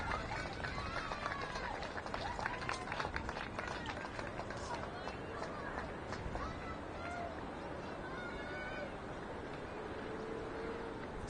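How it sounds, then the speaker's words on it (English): Crowd noise from the Newcastle supporters' tent at a cricket grand final, Newcastle Blasters versus Riverina Bullets, a distant steady roar of cheering that runs the whole time beneath continuous commentary. "Can hear the Newcastle tent down there cheering for Roby"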